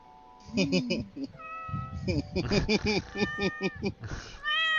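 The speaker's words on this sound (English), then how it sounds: "Kitty, no. That's my cat." Pet cat meowing several times in quick succession, close and fairly loud, mixed in with a person talking and bright electronic chime tones.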